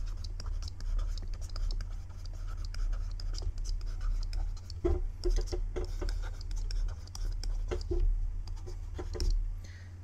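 A pen or marker scratches and taps as math is written on a board, with short irregular strokes over a low steady hum, close and fairly quiet.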